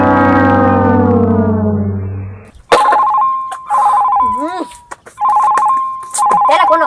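A telephone rings in a home with a loud electronic ringtone in repeated warbling bursts after a sustained tonal sound, heard close and clear with voices around it.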